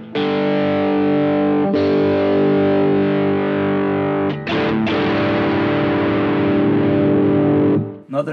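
Electric guitar through a Blackstar HT Dual valve distortion pedal on channel 1 at maximum gain, loud saturated sustained chords, a couple of restrikes, then a final chord that cuts off abruptly.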